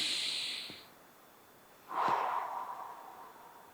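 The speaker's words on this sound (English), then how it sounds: "As you breathe in and you breathe out" A deep breath drawn in and let out, first a soft airy inhale, then a pause, then a louder, close breathy exhale that slowly fades, with no talking.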